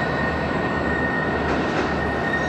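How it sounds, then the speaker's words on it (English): Locomotives push railcars over the hump at BNSF's Northtown rail yard, giving a continuous, loud rumble of rolling stock with a steady high wheel whine, close by and with no voices. "cars are pushed over and use gravity to automatically get sorted into a predetermined track"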